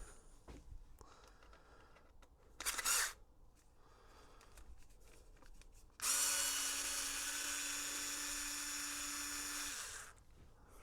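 Power drill driving screws into a 3D-printed bumper on a Traxxas X-Maxx or Arrma Outcast 8S RC car: a brief burst of whirring, then a longer steady motor whine of about four seconds, close and fairly loud.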